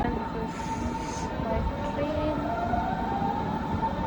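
A train at a station near Berlin rumbles steadily and loudly, with a sustained metallic whine, faint squealing wheel tones and a brief high-pitched screech near the start.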